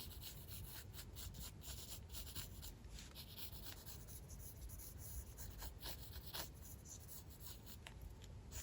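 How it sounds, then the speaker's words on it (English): A pencil sketching faces in a sketchbook, making steady close-up scratching and rubbing strokes that run without a break, soft but detailed, with no talk. "let me sketch some more faces"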